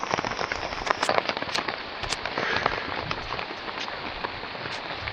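Hail pelts the ground and gear during a Himalayan blizzard on a solo Nepal trek, a dense, steady patter of sharp ticks and clicks close by with no pause.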